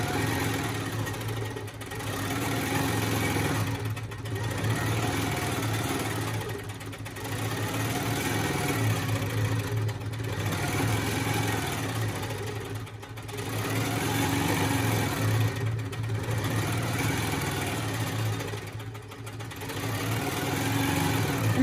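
A quilting sewing machine fitted with a Surefoot presser foot runs back and forth in long steady whirring passes with brief dips between them, close and continuous, with no voices.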